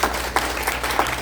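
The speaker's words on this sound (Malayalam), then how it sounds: "ഞങ്ങൾ എല്ലാവരും ഒന്ന് കൈയടിച്ച് അവർക്ക്" Audience at a gathering applauding, steady dense clapping filling the room with no talk over it.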